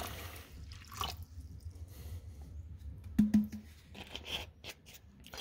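Copper sulfate solution for Bordeaux mixture being poured into a litre of water in a plastic bucket, heard as faint close drips and small splashes scattered over a quiet background.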